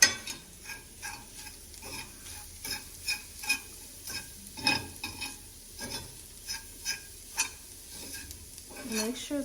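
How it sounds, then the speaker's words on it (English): A utensil stirs and scrapes seasoned vegan chicken, dusted with Cajun seasoning and lemon pepper, around a sizzling pan in a quick, irregular rhythm of close scrapes and taps over a constant frying hiss. "Let's mix it on up."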